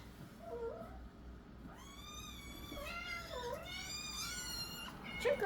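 A pet cat meows several times close by, drawn-out whiny calls rising and falling in pitch, with a quiet household background and soft handling noise at the end.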